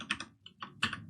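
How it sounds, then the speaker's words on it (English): Quick clicks on a computer keyboard, a short burst of separate keystrokes close to the mic in a quiet room. "If I can type."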